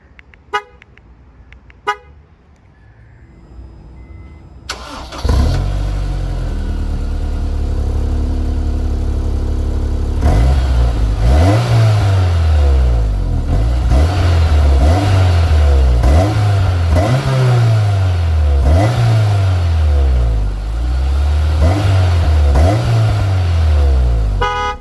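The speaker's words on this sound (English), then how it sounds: "startup, and exhaust clip of the 2007 Honda S-2000 6-speed manual" A 2007 Honda S2000 with a six-speed manual starts after a few faint clicks, then settles into a steady idle and is revved repeatedly. Each rev rises and falls as a loud, raspy exhaust note close to the listener.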